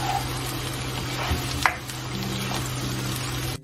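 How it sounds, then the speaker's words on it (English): Steady broadband sizzle of onions and garlic frying in hot oil, continuous and close, with a low hum underneath and a brief clatter midway. "Who loves this garlic onion sizzling noise?"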